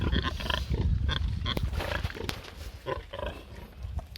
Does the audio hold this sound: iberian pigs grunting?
yes